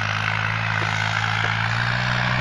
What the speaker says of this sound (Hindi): और ये ट्रैक्टर काम कर रहा है